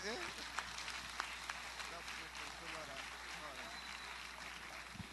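A church congregation applauds at a service, a steady wash of clapping from many hands at a fair distance, with no voices clearly standing out.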